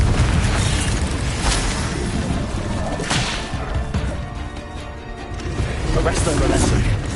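Confringo spell explosions in Hogwarts Legacy crack and boom through a busy battle mix, with sharp whip-like bursts near the start, around three seconds in and again toward the end, while voices talk over the fighting.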